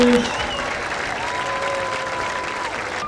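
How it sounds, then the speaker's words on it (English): A stadium crowd at a high school football game between Upper St. Clair and Baldwin applauds steadily for the cheerleader, hip hop and football seniors, a broad wash of clapping with a faint tone and some voices beneath. "let's have one final round of applause for all of our cheerleader, hip hop, and football seniors."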